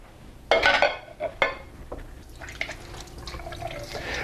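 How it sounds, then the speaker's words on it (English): Water and chicken stock poured into a fry pan over raw chicken breasts, a short splashing pour followed by a couple of smaller splashes and faint trickling, fairly quiet with no talking. "And then we're going to add a poaching liquid."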